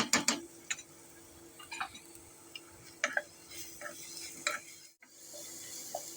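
A ground paste of garlic, ginger, chilli, ajwain, cumin and fennel is stirred in hot oil, with a soft sizzle under repeated spatula scrapes and taps against the pan.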